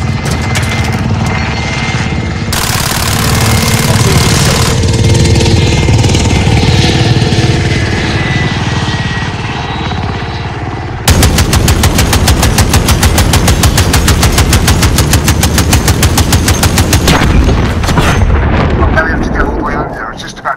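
Call of Duty Modern Warfare turret machine gun fire in a game battle, a loud, close roar of rapid automatic bursts with a long unbroken stretch of fast rattling fire in the second half, heavy rumbling noise underneath.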